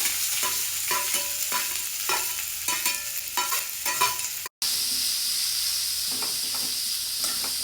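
Thinly sliced onions sizzle in a couple of spoons of oil with mustard seeds and cumin, a steady close frying hiss broken by rhythmic stirring scrapes and a brief dropout midway, with no talking.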